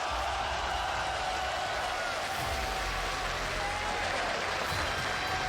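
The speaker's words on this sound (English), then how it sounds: "you can't help but to hear the crowd cheer for you" A large crowd in the video game League of Legends roars and cheers continuously, a dense wash of sound that stays loud and steady throughout.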